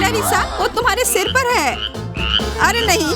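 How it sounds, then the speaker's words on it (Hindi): A frog croaks repeatedly at close range, mixed in with excited girls talking and exclaiming over it. "यह मेंढक है।"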